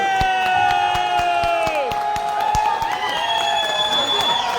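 A crowd at a meeting in Delhi rises to cheer and clap for a man named Saurabh, with loud overlapping shouts and whoops ringing over scattered claps, close and energetic throughout.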